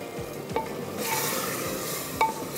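A mutton kunna pot being stirred after yogurt and ground masala go in over low heat, with scraping spoon strokes against the pot and a soft sizzle underneath, a couple of sharper clinks standing out.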